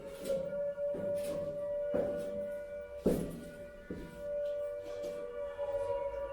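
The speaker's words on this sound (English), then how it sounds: "the first thing that you're greeted with is this eerily haunting sound of air raid sirens going off" A steady, wailing air raid siren tone holds throughout, echoing inside a school's underground air raid shelter, with intermittent thuds and rumbles beneath it and no talking.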